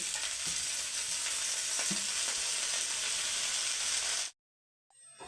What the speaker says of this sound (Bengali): পেঁয়াজগুলো আমার নরম করে ভাজা হয়ে গেল এই সময় আমি ধনে পাতা কুচি করা দিয়ে দিচ্ছি